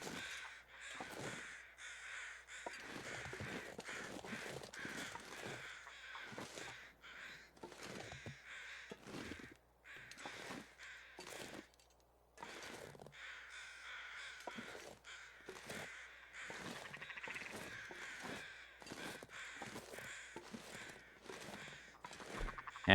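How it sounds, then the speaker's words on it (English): Crows cawing repeatedly in The Long Dark, a wilderness survival video game; harsh calls come in irregular bursts throughout, fairly close and clear against a quiet background, with no talking. "Where are these birds?"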